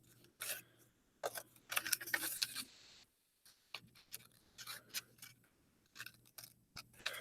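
Scissors snip through paper during a children's art project, sounding as close, crisp bursts of cutting with short pauses between runs of snips and no talking.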